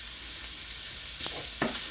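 Vegetables sautéing in a pan for a Tuscan potato and kale soup, giving a steady hissing sizzle with a couple of brief stirring scrapes, close and even.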